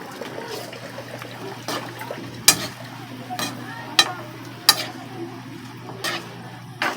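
A spoon stirs tinolang manok, a Filipino chicken soup, in a pot, with liquid swishing and sharp scrapes against the pot at irregular intervals over a low simmer.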